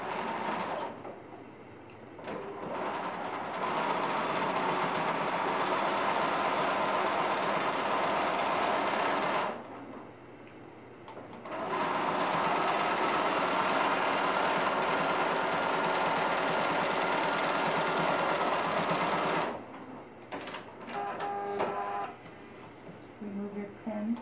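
A sewing machine stitches a fabric tablet sleeve in two long, steady runs of rapid mechanical whirring. A brief pause separates the runs, and a short stop-start comes at the end.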